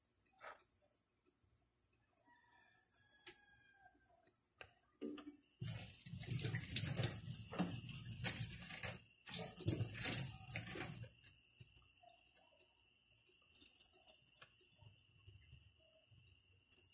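Water poured from a tap or jug into a cooking pan holding salted fish, a steady splashing pour of about five seconds, close and fairly loud, after a quiet stretch with faint background crickets.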